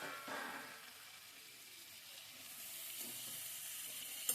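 Tomatoes and green chillies fry in a pan on low gas for a spicy fish curry, making a soft, continuous hissing sizzle at low volume with no talking.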